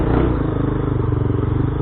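Motorcycle engine running on ethanol fuel, a close, loud, steady idle with a rough pulsing rhythm and a clattering mechanical tone throughout.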